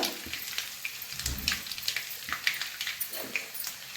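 Garlic and asafoetida frying in hot oil, a steady close crackling sizzle with scattered pops and a brief stirring thump.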